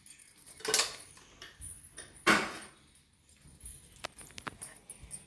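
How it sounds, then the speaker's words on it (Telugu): A spoon clinks against a bowl while bodakakarakaya (spiny gourd) chutney ingredients with a little turmeric are mixed, giving two sharp metallic clatters followed by lighter, scattered taps, close and fairly quiet. "ఇప్పుడు ఇవన్నీ మంచిగా కలపాలి మనం."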